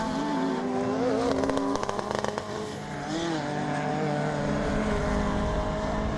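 Racing cars, among them a Mark I Volkswagen Golf, flick through a chicane in a retro rallycross race, engines rising and falling loudly and close as they pass.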